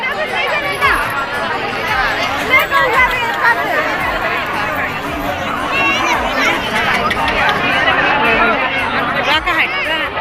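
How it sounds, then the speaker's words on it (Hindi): Dense crowd babble at a village fair (matar festival), many voices chattering together close around, steady and lively throughout with footsteps and movement mixed in. "बहुत ज़्यादा भीड़ है"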